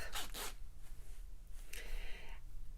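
A dress zip is pulled, making two quick rasping strokes followed by a longer, smoother zipping run, all quiet and close in a still room.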